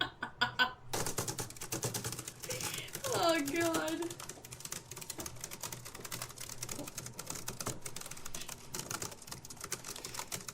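Keys clatter at a computer keyboard in quick irregular bursts, steady and moderately close, with a voice speaking briefly over the tapping.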